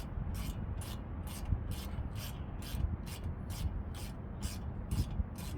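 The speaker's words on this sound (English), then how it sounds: "I'm gonna pull the two spline nuts that holds the bolt that holds the caliper to the vehicle" Spline nuts on the brake caliper of a 2019 Ford Escape are removed with a tool, giving a steady mechanical grinding with about a dozen evenly spaced hissing bursts, close and continuous with no talk.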